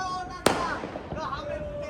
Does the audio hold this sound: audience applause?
no